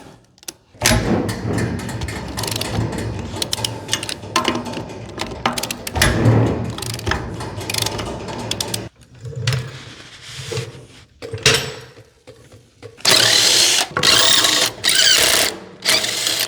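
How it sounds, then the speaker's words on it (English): Electric impact wrench loosening the lug nuts on a trailer wheel: loud bursts of rattling, hammering mechanical buzz separated by pauses, clunks and handling noises, close up, with the final burst the loudest. "And then I got the electric torque wrench there, or impact wrench. We're gonna get started by loosening these lug nuts."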